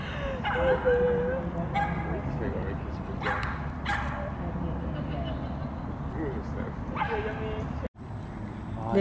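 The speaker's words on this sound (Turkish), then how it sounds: "Margit Adası'ndaki köpek Margit Adası'nın leyleğinle oynuyor. Leylek korkutuyor köpeği." A dog barks and yips while playing with a stork on Margaret Island in Budapest, outdoors among loud people talking close by, with a brief dropout near the end.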